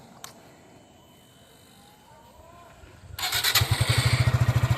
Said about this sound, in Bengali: এবার আমরা বাইকটি স্টার্ট করে সাউন্ড দেখানোর চেষ্টা করব